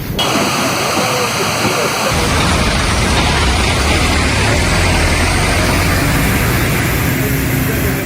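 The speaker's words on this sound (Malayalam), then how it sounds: "പൈപ്പ് പൊട്ടി വെള്ളം ആകാശത്തേക്ക് കുതിച്ചു" Drinking water gushing skyward from a burst pipeline, struck during digging, makes a loud, steady rush that roars continuously throughout, with a deep low rumble underneath and a brief quieter moment at the start.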